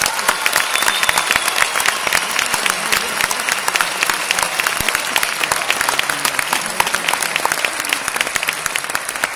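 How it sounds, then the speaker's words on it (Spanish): A large theme-park crowd at a Christmas show claps loudly and steadily for dancers and international performers, a dense continuous wash of hands that holds at full strength throughout. "le dieran un fuerte aplauso también a todos los artistas internacionales"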